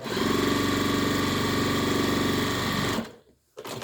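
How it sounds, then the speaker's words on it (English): A sewing machine stitches one line across the end of an apron pocket, running loud and steady for about three seconds before stopping abruptly, followed by a faint handling noise. "So we'll do one line of stitching there."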